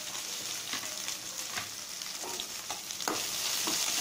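Mustard seeds spluttering in hot oil with onions in a pan, a steady close sizzle broken by scattered crackles and pops, at moderate loudness with no talking.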